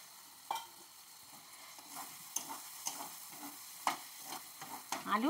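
Fried potatoes tipped into oily, sizzling masala for an egg-paneer curry and stirred, giving a steady soft sizzle broken by sharp scraping clicks of the spoon against the pan, close and alone.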